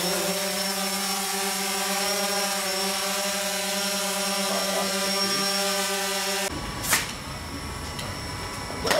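A small drone's motors whine with a steady high-pitched buzz that holds, then shifts abruptly as it lifts off, followed by a couple of soft knocks.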